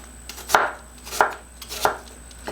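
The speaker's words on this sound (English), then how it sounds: "I'm going to take my apple and I'm just going to give it a little slice" A knife slices through an apple to cut it into wedges for a caramel apple skillet cake, giving four crisp cutting strokes spaced at a steady, unhurried pace with nothing else heard.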